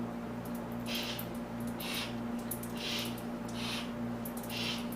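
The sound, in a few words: rotary engine turned over by wrench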